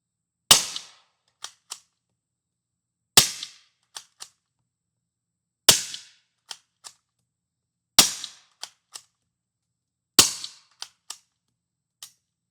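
Five sharp gunshots from a bolt-action rifle fitted with a cheap welded tuna-can suppressor ring out in an otherwise silent setting, each followed by a couple of quick echoing slaps. The shots come at an even spacing of roughly every two and a half seconds.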